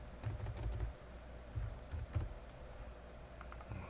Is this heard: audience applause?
no